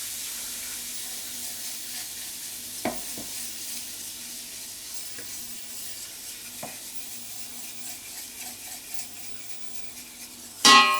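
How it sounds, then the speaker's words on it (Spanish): Flour sautéing in a pan for ropa vieja gives a soft, steady sizzle, with occasional scrapes and taps of a utensil stirring, and a louder clatter at the end. "Y vamos a rehogar un poquito de harina para que espese la salsa y no quede aguichada."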